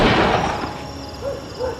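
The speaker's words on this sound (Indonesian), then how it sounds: "Kemudian tiba-tiba suara tembakan menggema di hotel." A single sharp gunshot rings out inside a hotel, a hard impact followed by a short echoing tail that fades quickly, with a few faint knocks trailing afterward.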